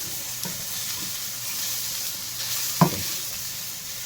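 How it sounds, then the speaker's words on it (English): Food sautéing in a pan for hot dog parmesan spinach and dirty rice, a steady close sizzle with two soft utensil knocks against the pan. "now we're just sauteing this"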